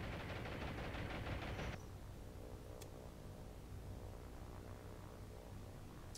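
Destroyers fire anti-aircraft flak at attacking aircraft in the naval video game War on the Sea, a rapid rattling burst of shots that stops abruptly and gives way to a steady low rumble of distant engines and sea.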